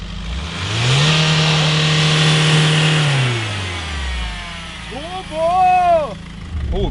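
Diesel car engine revved hard to full throttle, a loud rising roar held for a couple of seconds before dropping back, then followed by two shorter, sharp rev blips; a voice talks in the background.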